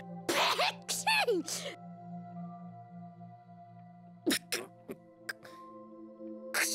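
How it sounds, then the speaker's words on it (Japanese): A voiced character sneeze in the video game Tales of Graces f: a couple of sharp bursts near the start over soft background music, followed by scattered short vocal sounds. "くしゃみをするなら手で口を押さえてほしいですね。"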